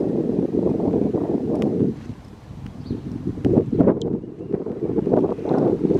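Gusty wind buffets the microphone in uneven rumbling bursts, easing briefly midway before picking up again, loud and close.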